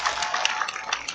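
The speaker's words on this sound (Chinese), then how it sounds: "先给主持人一个掌声好了" An audience at the Nanying International Folk Arts Festival opening ceremony in Taiwan claps for the hosts, a brief, moderately soft patter of many hands.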